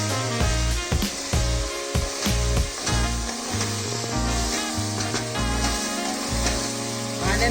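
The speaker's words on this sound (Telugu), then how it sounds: "ఆనియన్ పేస్ట్ కూడా ఒక 2 మినిట్స్ వేగాలి." Onion paste frying in a pan after chicken and garlic paste, for a Rayalaseema mutton curry, produces a continuous loud sizzle with repeated rhythmic stirring thumps and scrapes throughout.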